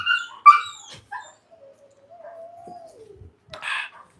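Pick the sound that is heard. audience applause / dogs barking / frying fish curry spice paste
dogs barking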